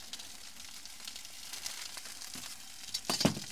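Steak and sausages sizzle softly in a pan at a Murray River campsite, a faint steady crackle with a few brief clinks of utensil on metal toward the end.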